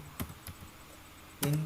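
Typing on a computer keyboard while entering code, with a few sparse, close key clicks and taps and a slightly louder keystroke near the end, no voice present.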